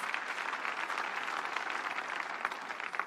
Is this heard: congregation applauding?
yes